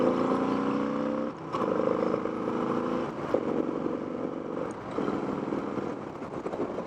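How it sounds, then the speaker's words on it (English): Motorcycle with a hydraulic clutch accelerating through the gears, its engine tone rising in repeated strained sweeps broken by short shift pauses, steady and fairly close. "Now let's see what the bike can do."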